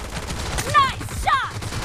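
Rapid gunfire rattles in BGMI (PUBG) team deathmatch at moderate volume, with brief voiced game callouts cutting in over the shots.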